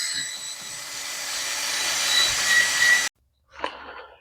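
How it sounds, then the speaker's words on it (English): Flapper wheel grinding out the inside of a wheel bearing recess on a Chevrolet Aveo, a loud steady abrasive whir for about three seconds that cuts off abruptly, followed by a short scraping burst. "we'll take the flapper wheel and just quickly run out the inside here"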